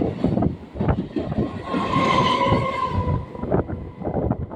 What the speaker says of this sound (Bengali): বন্ধুরা ট্রেন এখন ঢুকছে নৈহাটি স্টেশনে